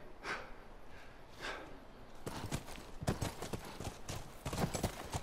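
Horses in The Last of Us Remastered: hooves clip-clop steadily, faint at first and then louder and closer, with a few snorts and no talk.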